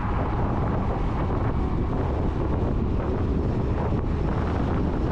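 Heavy wind buffeting the microphone during a Suzuki Burgman scooter ride, a loud, dense, unbroken roar filling the whole stretch with no pauses or distinct events.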